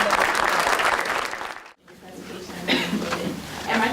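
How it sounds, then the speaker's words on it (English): An audience at a closing luncheon gives a speaker loud, dense applause, which breaks off briefly and then resumes as a steadier, somewhat thinner round of clapping. "let's give her another rousing applause"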